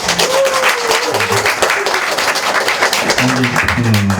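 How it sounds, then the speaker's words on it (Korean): Applause from a church congregation at a worship service, a dense continuous patter of clapping with music playing underneath, fairly loud. "한 박수 한번 쳐주십시다"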